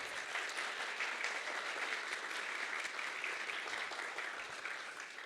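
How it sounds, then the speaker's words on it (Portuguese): A church congregation claps continuously for several seconds during a Sunday service, a dense and even wash of applause heard from a slight distance. "Não merece uma salva de palmas para Cristo?"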